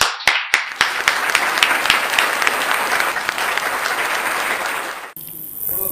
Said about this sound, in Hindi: जोरदार तालियों के साथ भुवनेश सिंघल जी का हार्दिक स्वागत